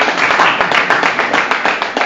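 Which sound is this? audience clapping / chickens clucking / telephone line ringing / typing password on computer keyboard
audience clapping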